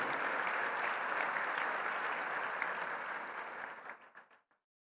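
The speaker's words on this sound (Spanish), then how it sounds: "Un aplauso por el trabajo, hermanos" An audience applauds at a family-themed church or seminar talk, dense sustained clapping that holds steady for about four seconds before tapering off into a few scattered final claps.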